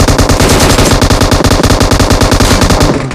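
Rapid automatic gunfire in a video game shootout, a loud continuous stream of shots lasting the whole stretch and tapering off at the very end, with no talk over it.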